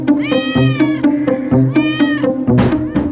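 Several household cats meow in a loud, close, overlapping series of harmonic cries, one pet among three cats and two dogs being readied for a move to Crete, with a few shorter calls rising near the end.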